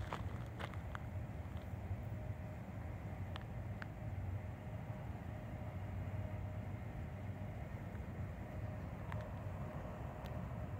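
Union Pacific 7312 manifest freight train approaching at night, a steady low rumble held level for the whole stretch, with a faint tonal hum and a few brief clicks over it, and no voices.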